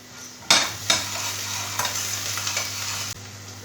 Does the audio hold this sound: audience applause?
no